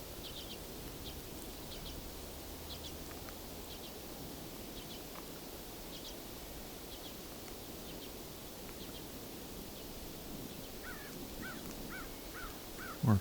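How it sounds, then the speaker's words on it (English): A flock of about sixty crows cawing in a field beside farmland, their harsh calls repeating in short bursts at a moderate distance over a steady outdoor hiss. "a flock of about 60 crows near here"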